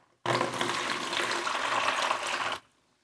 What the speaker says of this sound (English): I've already measured out my water, so I'm going to put that in.